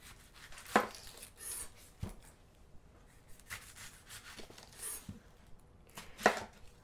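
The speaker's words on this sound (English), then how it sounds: "So starting off, slice our onion." An onion being sliced with a knife for turkey meatballs with spaghetti puttanesca, giving a handful of sharp, close knife thuds on a cutting board. Soft rubbing and scraping of the blade fills the gaps, and no one speaks.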